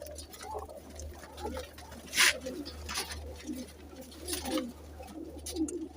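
Flying pigeons coo in soft, repeated low calls close by, with rustling and fluttering of wings and feet mixed through, and no voices.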